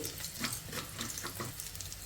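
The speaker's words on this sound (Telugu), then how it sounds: "ఇంకా ఈ పోపు దినుసుల్ని ఫ్రై చేసేసుకోవాలి." Tempering spices sizzling in hot oil in a pan, a loud, close crackling fry with bursts of popping and spatter and light stirring scrapes, with no talking.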